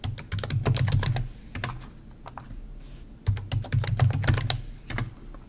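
Keys clatter on a computer keyboard as a password is typed in, two quick bursts of close, crisp clicks separated by a brief pause, with no voices.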